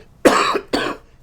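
Two sharp, loud coughs come close together from one person nearby, each a harsh burst that quickly fades, with quiet between them.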